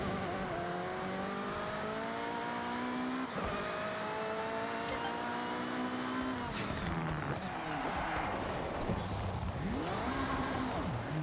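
Car in the Forza Horizon 6 racing game, engine revving loudly with rising and falling pitch as it brakes and shifts, tires squealing and skidding near the end, continuous and up close.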